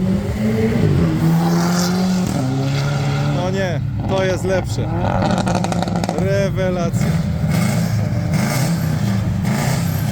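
Rally car engines, including a Subaru Legacy, rev loudly and roar past on a stage of the Polish Rally of Legends 2025, pitch rising and falling, while people talk excitedly in Polish nearby over the noise.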